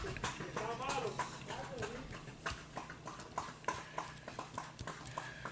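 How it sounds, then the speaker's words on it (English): Horse hooves clip-clop in a steady rhythm as someone rides by on horseback, moderately close, while a person talks over them. "There goes someone riding a horse."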